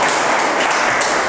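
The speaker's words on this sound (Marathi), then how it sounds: "त्यांच्यासाठी एकदा जोरदार टाळ्या वाजवा." An audience at a speech-training gathering breaks into a short, dense burst of applause, loud and even throughout with no voices.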